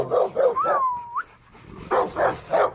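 Dogs in kennels bark in quick bursts with a short rising whine between them, fairly close and loud, with several rhythmic barks returning after a brief lull.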